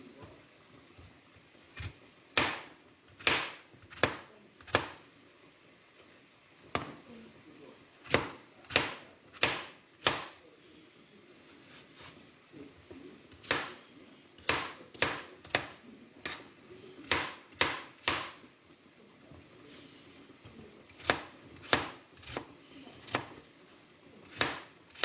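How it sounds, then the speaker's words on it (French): A knife chopping apples on a board for a galette des rois, sharp close knocks in irregular bursts of several cuts separated by short pauses. "Donc là, je coupe mes pommes."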